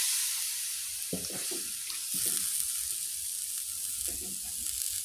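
Sliced galangal and leaves being stirred in a hot pan, a faint steady sizzle with a few soft scraping strokes of the spatula.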